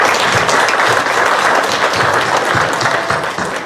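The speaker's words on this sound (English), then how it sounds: "I'd like to give them a round of applause for what they've done." A board meeting audience at Sauk Village gives a round of applause, steady, loud and close, with dense overlapping claps filling the room for the whole stretch and easing slightly at the end.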